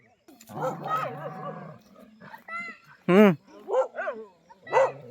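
A pack of four or five dogs barks, with several sharp, loud barks close by near the end, mixed with people talking over them.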